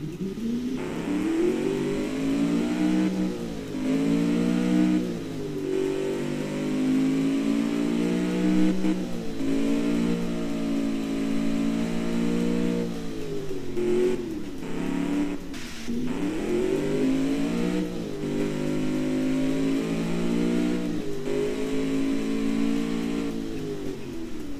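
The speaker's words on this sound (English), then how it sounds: "all I like to do is rev the engine to hear how nice it sounds" A car engine in the Automation car-building game revs repeatedly, with rising and falling pitch sweeps of a steady mid-range engine drone that climbs several times and eases back, loud and continuous with no talking.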